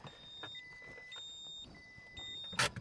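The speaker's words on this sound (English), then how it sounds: "new car's always beeping at you" A new car's warning chime sounds in a repeating pattern of bright electronic beeps, each tone held briefly and stepping between pitches, fairly faint, with a sharp louder burst near the end.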